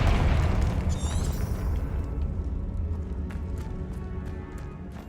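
A Confringo blast spell from the Hogwarts Legacy video game, a loud low boom with a bright crackling burst near the start, then a rumbling decay that slowly fades across several seconds, no talk.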